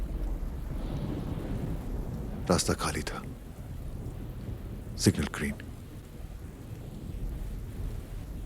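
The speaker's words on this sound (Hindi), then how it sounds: "उस रात बारिश हो रही थी," Steady rain with two sharp thunder cracks rumbling through it, a movie-style night storm effect while someone speaks over the downpour.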